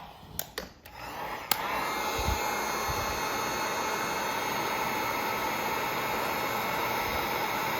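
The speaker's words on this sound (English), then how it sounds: "I'm gonna hit this with the heat gun" A heat gun blows a steady, loud whooshing roar onto heat shrink over a crimped wire, starting after a few sharp clicks and handling knocks and holding constant to the end.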